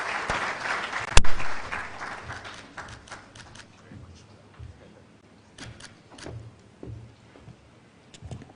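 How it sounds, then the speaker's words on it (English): A crowd at a clergy gathering applauds; the clapping swells loudly at first with a sharp bang near the start, then thins out into scattered claps and a few voices as it fades. "Another resounding applause, please, to Madam Flora Bessa Chibule."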